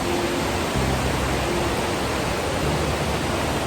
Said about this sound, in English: That's the river and the waterfall, guys.